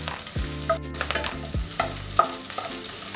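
Onions, green chillies and curry leaves fry in a pan for a ladies finger stew, a close sizzle broken by short stirring scrapes and clanks against the pan, with no voices.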